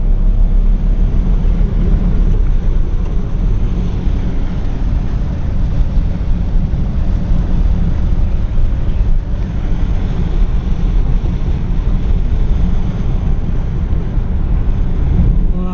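A 1959 Chevrolet Bel Air with a standard shift cruises along, its engine and road noise a loud, steady low rumble mixed with wind buffeting, heard from inside the car without talk.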